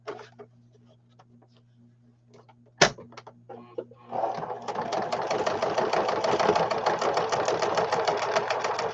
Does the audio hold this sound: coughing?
no